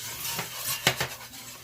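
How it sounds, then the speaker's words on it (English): A utensil stirs flour into melted butter in a pan, scraping steadily with a few sharper clinks against the metal and a soft sizzle underneath, close and without speech. "I'm going to add 1 tablespoon of flour and just mix that in really good."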